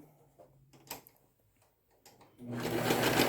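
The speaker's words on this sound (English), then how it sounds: "I put that under the serger." A serger sews through three layers of fabric for a welding cap, a loud steady mechanical whir that starts abruptly after a few quiet handling clicks and runs to the end.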